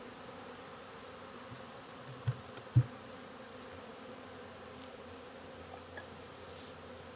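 Honeybees hum steadily around an open hive with the inner lid lifted off, a constant close buzz with a couple of soft knocks partway through.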